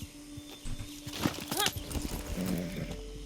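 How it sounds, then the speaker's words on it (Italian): Horse sounds in the video game Far Cry 6, with hooves clip-clopping on a path alongside a brief snort or whinny, fairly quiet and close, mixed with soft game ambience. "Ma è un cavallo."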